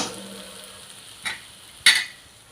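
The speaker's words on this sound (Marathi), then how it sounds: "चांगलं मिक्स करून घ्यायचं।" Masala for a cauliflower and pea curry stirred in a hot pan, a soft frying hiss broken by two quick scraping clinks of the spoon, the second louder, with no talking.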